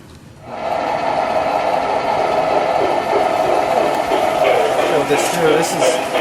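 A steady mechanical hum and rumble of a Lionel O scale model train running continuously on a large layout, with faint clicking and a brief higher whine near the end.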